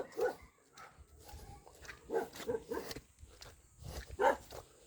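Several short, moderately faint dog barks come in scattered bursts in a rural countryside setting, with quiet rustling between them.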